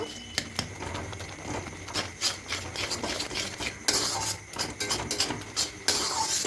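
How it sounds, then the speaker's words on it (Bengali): Sago being mixed by hand with Gobindobhog rice flour in a bowl: close, continuous dry rubbing and rasping, with irregular strokes and a few sharper scrapes. "এবার খুব ভালো করে মিশিয়ে নেব এইভাবে করে মিশিয়ে নেব"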